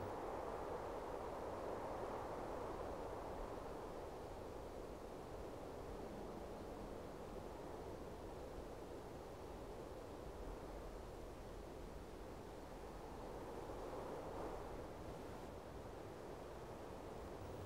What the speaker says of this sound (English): it's really windy here, and the fine desert sand gets everywhere.